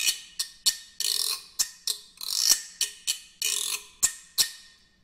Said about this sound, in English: if you don't have a special guiro stick, then it's fine to just use one of the chime bar beaters instead and use the other end of it